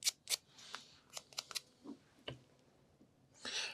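Small pieces for a 1:72 scale HMS Victory model ship cut with sharp, brief clicks and snips, about a dozen scattered irregular cuts heard up close and fairly quiet, ending in a short rustle.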